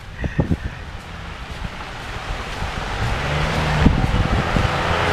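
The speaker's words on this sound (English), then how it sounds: "Oof, there's a bit of a wind." Wind gusts outdoors on a rainy walk down a fire road, with a rushing, buffeting roar that builds steadily louder and is preceded by a few close rustling thumps.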